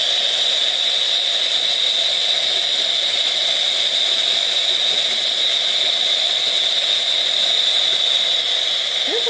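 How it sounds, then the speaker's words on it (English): A Morphy Richards Europa espresso coffee maker vents steam in a loud, steady hiss that runs unbroken for the whole stretch, broad and bright with a constant roar beneath it. "There's a lot of steam in that thing."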